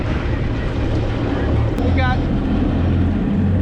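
A sailboat's engine runs in reverse at around 2,000 RPM during an anchor test, a steady low droning hum beneath constant wind buffeting on the microphone, with a brief faint beep partway through.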